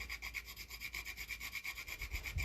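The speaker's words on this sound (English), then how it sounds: "It's best if you can have fresh nutmeg rather than ready ground in a jar. It's just so much better. So a bit of a grating of that." Fresh whole nutmeg is rubbed across a grater in quick, even strokes, a soft rhythmic rasping close by with no talking.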